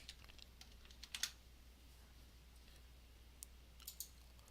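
Someone types a spreadsheet formula on a computer keyboard, giving soft, quiet clicks with a few brief clusters of keystrokes over a low steady background hum.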